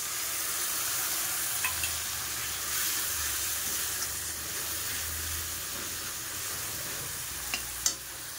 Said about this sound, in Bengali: মশলাটা ভাজা হয়ে গেছে। তো এর মধ্যে এখন পুরো মশলাগুলো দিয়ে দেবো।